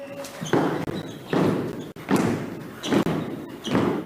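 Foot tapping the beat, a series of soft dull thumps at an even pace, about five or six of them, close by and fairly quiet.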